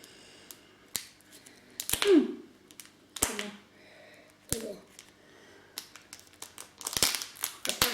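Crinkling of the foil wrapper on a Kinder Joy chocolate egg as it is opened, sharp intermittent crackles and snaps in short bursts with pauses between, close up and fairly quiet in a calm room.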